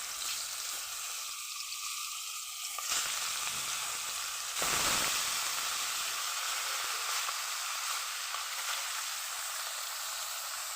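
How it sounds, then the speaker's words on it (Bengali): Rohu fish head frying in hot oil in a wok, giving a steady, loud sizzle and hiss that runs throughout, with a brief, brighter crackling surge about halfway through. "মাছটাকে ভেজে নেব।"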